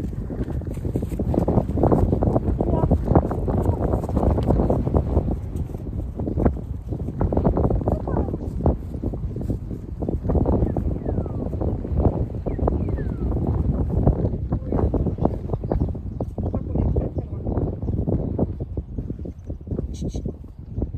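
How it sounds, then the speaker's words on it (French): Strong wind roars and buffets the microphone in continuous gusty blasts, a deep rumbling rush that barely lets up. "le vent s'est levé. Il y a du vent dans tous les sens"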